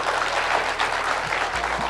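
Dense, sustained applause from a large crowd at a Punjab political rally, steady and loud for the full stretch with no voices breaking through.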